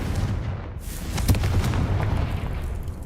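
Confringo spell explosion in Hogwarts Legacy: a booming blast with heavy low rumble that swells around the middle and rolls on as a continuous roar to the end.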